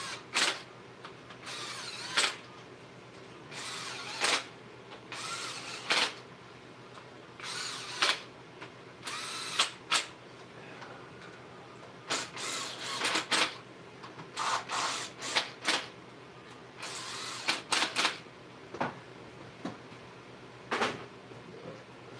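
A pneumatic impact gun runs bolts down during engine lifter work, firing in a string of short, sharp bursts separated by brief pauses across the whole stretch, fairly close and with no talking.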